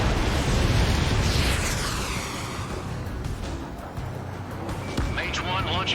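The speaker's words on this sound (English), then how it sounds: "Page 2, missile launch." A missile launching in the Ace Combat 7 flight game, a loud roaring whoosh that swells at the start and trails off against steady jet engine noise, with radio voices talking over it.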